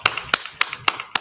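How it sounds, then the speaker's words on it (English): Audience clapping in sparse, evenly spaced sharp claps, about five crisp hits in a second, close and fairly loud with no voices. "Let's clap it up."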